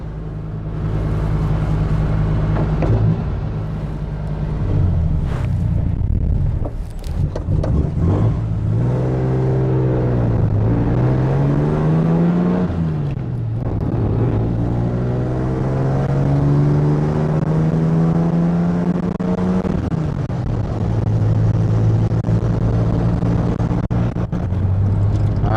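A 1964 Ford engine runs with a loud, continuous drone, its pitch rising and falling through several swells and revs over a long stretch, with a high idle.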